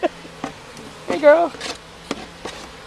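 Disturbed honeybees buzz around an opened hive being split, one bee whining loudly and close past the microphone among lighter buzzing; a person speaks briefly over it.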